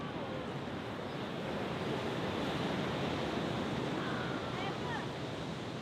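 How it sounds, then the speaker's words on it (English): Big ocean waves crash on a rough day along the coast of a Portuguese island, a dense, unbroken roar of surf mixed with wind rushing across the microphone, loud and constant throughout. "It actually has huge waves today"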